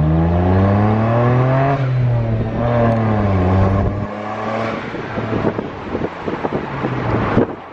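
A BMW 135i pulling hard in first gear from a stop, its engine note climbing steadily in pitch, then a shift-like drop and renewed rise with road and wind noise; loud, close, no speech.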